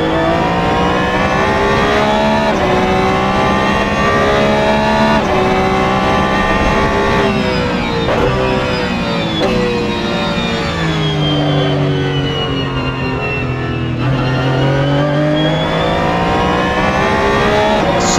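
A Darche EGT race car revs loudly and close at Donington Park, its engine note rising and falling through sustained high-revving passes with no pauses.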